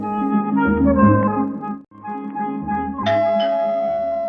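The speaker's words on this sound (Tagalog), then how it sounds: "Inakitaan ti nag-doorbell." A doorbell rings with a sustained, tonal electronic chime melody of several notes that fills the clip, clear and prominent indoors, with no talking over it.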